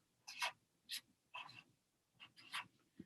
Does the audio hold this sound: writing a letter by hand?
yes